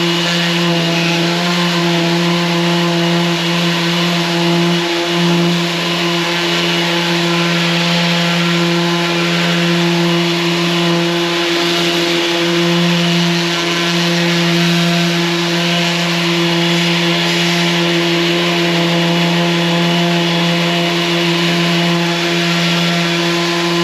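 A Mirka Deros sander hooked to a dust extractor runs at full suction, producing a loud, constant whine and airy roar with steady tonal hum, unbroken throughout.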